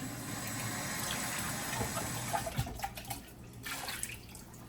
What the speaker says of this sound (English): So you're going to rinse out the can and recycle it.